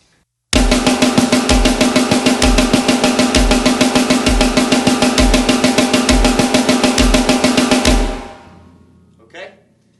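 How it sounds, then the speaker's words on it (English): Fast drum pattern of 16th-note triplets, six even strokes per beat, played continuously and loudly for about eight seconds with steady kick accents before stopping and ringing out, no talking. "Okay, so 16th note triplets sound like this."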